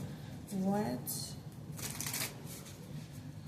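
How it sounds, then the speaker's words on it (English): Tarot cards being shuffled in quick riffling bursts, close by, with a voice sounding briefly at the start. "let's start shuffling the tarot"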